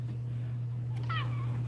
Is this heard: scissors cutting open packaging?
no